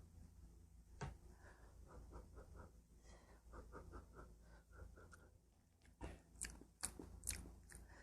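Someone eats Bibigo abalone porridge near the mic: soft spoon clinks, slurps and chewing in an irregular rhythm, with a few sharper clatters toward the end and no speech.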